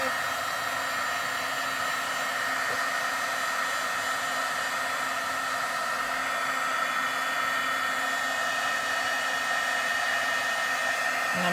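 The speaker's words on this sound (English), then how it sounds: "So now I'm going to take my heat tool and start to heat it from underneath." A crafting heat tool warming embossing powder from beneath cardstock gives a steady, close, loud hairdryer-like whoosh and whine that holds level throughout, with no talking.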